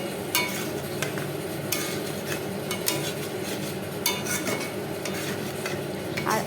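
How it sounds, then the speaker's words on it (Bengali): Prawns being stirred and sautéed in a spiced masala, a constant sizzle under repeated scraping and clinking of a spatula against the pan, close and busy, no talking. "এই দেখো কষানো হচ্ছে"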